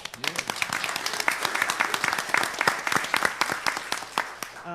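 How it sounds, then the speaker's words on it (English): Dense audience applause at a school board meeting, many hands clapping rapidly and steadily, with some voices mixed in underneath. "I just want everybody to give them applause for that"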